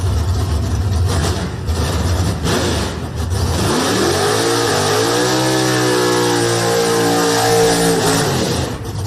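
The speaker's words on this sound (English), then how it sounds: "Fast Mustang." A Ford Mustang race car at a test-and-tune track session accelerates hard, its loud engine note sweeping upward through gears in a sustained, close roar with rising and falling harmonics.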